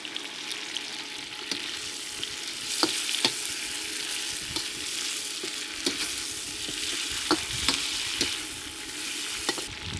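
Chicken wings sizzle and fry in a pan with cooking sherry and sugar, a steady close crackle broken by repeated sharp scrapes and clacks of stirring, with no talk.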